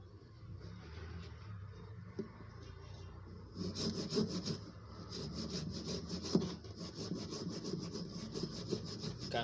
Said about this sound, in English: put the petrol on your sharpening stone and then use this sponge